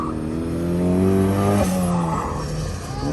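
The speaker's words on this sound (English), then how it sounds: "on to Jeremy Layfield and his turbo NA Miata. Let's see what he can make happen here." A turbocharged first-generation Mazda Miata is driven hard around an autocross course. The close engine note climbs and falls through the revs, with a brief dip midway and a faint edge of tire squeal.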